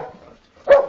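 A police service dog gives a single sharp, loud bark near the end, after a brief stretch of faint low murmur.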